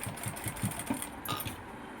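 A sewing machine stitching a blouse, with a quick rhythmic mechanical clatter that is close and moderately loud, then eases off toward the end, with no talk.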